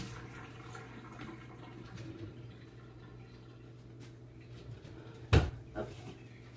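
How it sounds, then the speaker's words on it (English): Water from a kitchen tap runs steadily at low level as sugar is rinsed off hands, ending in a sharp knock near the close and a smaller bump after it. "Let me rinse my hand off because I got sugar all over it."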